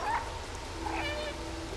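A cat in the video game Stray meows twice in quick succession, soft and fairly close, over a low steady background hum.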